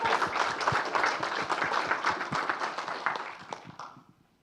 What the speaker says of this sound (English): Another round of applause to Piotr.